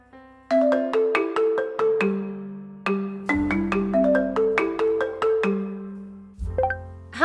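A bright melodic phone ringtone plays a rapid sequence of plucked, marimba-like notes with a bass line, loud and close, repeating its phrase without voices.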